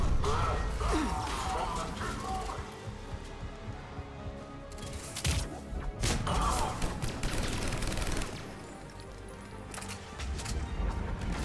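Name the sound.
fast-firing gun shooting in Mass Effect 3 video game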